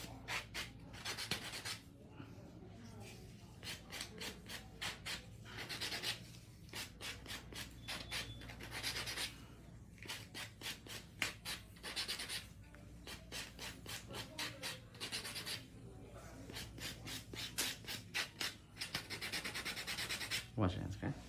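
Acrylic nails being buffed, producing faint, steady rhythmic rubbing strokes that repeat in quick bursts throughout, with short pauses between passes.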